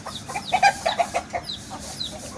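A hen clucking inside a trap set to catch a rooster, a hen with small chicks having wandered in; a string of short, soft clucks close by, uneven in rhythm, alone without talk.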